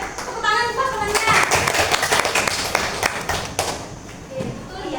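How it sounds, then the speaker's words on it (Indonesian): Classroom applause for a classmate at an Indonesian school lesson, a dense patter of many hands clapping, loud and close, with children's voices chattering underneath. "tepuk tangan buat temannya"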